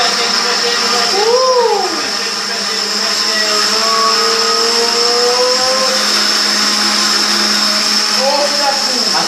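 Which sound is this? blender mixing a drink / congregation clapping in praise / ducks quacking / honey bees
blender mixing a drink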